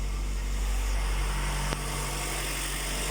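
A Vauxhall Corsa engine idles steadily, a low, constant hum with a faint click partway through and no voices.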